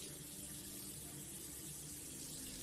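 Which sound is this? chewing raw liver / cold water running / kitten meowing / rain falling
cold water running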